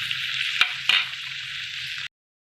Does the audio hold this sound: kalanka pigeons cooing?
no